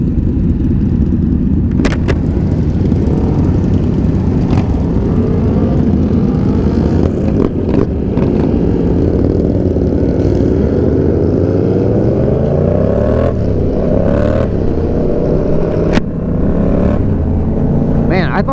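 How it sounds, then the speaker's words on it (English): Loud cruiser motorcycles on an open group ride, engines droning and revving steadily throughout with rising and falling pitch sweeps as bikes ahead accelerate, wind noise and occasional speech mixed in. "Some of these bikes ahead of me are really loud."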